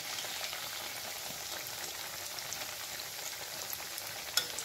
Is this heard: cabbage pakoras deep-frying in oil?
yes